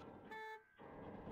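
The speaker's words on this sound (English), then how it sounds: "Left click to honk." A short, faint car horn toot in a video game, a single brief honk between quieter background sounds.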